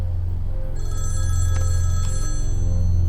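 Telephone bell ringing loudly and close in a dramatic film scene, with repeated electronic trills over a steady low hum and no talking.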